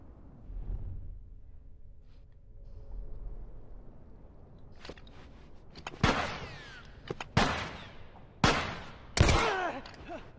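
Gunfire in The Last of Us Left Behind video game: a quiet, rumbling stretch gives way to several loud, sharp shots and short bursts that ring out near the end.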